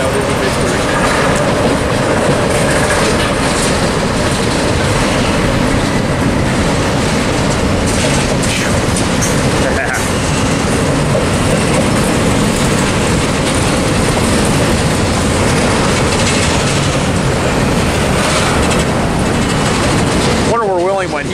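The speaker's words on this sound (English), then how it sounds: "Got some COFC on this train." A Union Pacific freight train carrying COFC containers rolls past close by, its loud, continuous clatter of wheels and cars filling the whole stretch while voices are faintly present.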